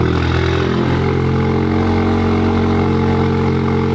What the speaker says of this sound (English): Okay, cold start, not too bad.